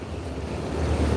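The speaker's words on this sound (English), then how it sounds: "It's a little windy. It is raining." Wind buffets the microphone on a rainy New York City street, a brief, loud, low rushing roar that swells slightly toward the end.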